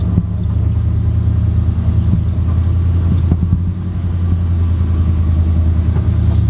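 A car engine rumbles loud and close while the car backs out, a deep, steady drone with a faint mid-range whine and no talking.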